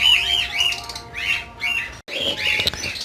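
Cockatiels and lovebirds in breeding cages squawk loudly and close in harsh, repeated calls, overlapping and nearly continuous, with one short break before more screeching.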